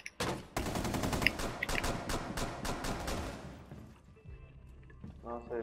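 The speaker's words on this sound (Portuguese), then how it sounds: "é uma metralhadora, né, que ele tem" Machine gun fire in the Rainbow Six Siege video game rattles in rapid close bursts for several seconds, then cuts off, leaving quieter game sounds as a voice begins talking.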